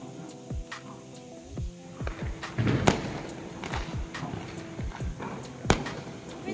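Diwali firecrackers pop and crack in an irregular series, some near and sharp, others farther off, over a humming background.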